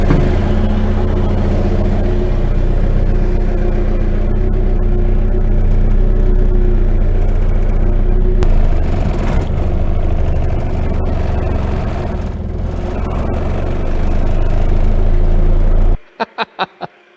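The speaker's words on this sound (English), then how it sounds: "the first thing that I hear is the hard engine mounts, because you can hear the whole car vibrate" A race engine idles in the RingTracktor build with hard engine mounts, a loud, continuous low rumble that shakes the whole car, near and steady for about sixteen seconds before cutting out to a few faint knocks.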